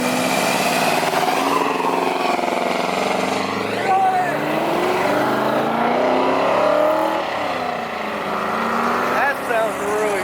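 An Aston Martin's engine runs steadily at an outdoor car show, rising and falling in pitch as it revs, with people talking nearby.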